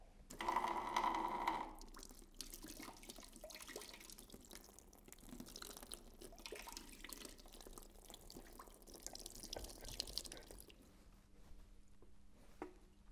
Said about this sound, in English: as I let the pressure off, water is going to come out